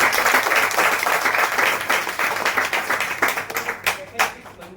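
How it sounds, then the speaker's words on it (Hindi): Audience at a direct-selling network marketing seminar bursts into loud, dense clapping that carries on for several seconds, thinning into scattered individual claps as it dies away. "एक जोरदार ताली हो जाए सब।"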